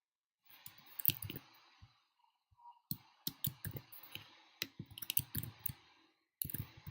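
Sharp computer mouse clicks come in small irregular bursts, some single and some in quick runs, close and crisp against a quiet room with brief pauses between them.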